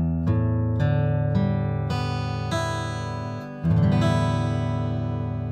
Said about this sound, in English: So if you play all the strings open, they should sound like this.